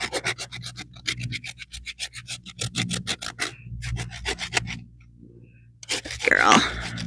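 A rasp files a goat's hoof to bevel its edge in rhythmic, close scraping strokes, steady and repeated, then it pauses briefly before a last rough burst with some shuffling.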